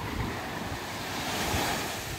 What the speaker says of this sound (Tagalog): Nasa dagat po ako ngayon, Sunday.